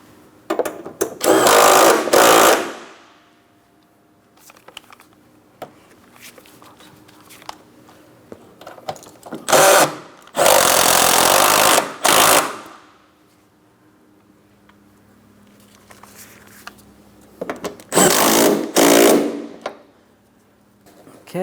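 A power tool tightens headlight assembly hardware on a 2003-2007 Cadillac CTS, firing in three loud, close buzzing bursts of two to three seconds each, with quiet handling clicks between them.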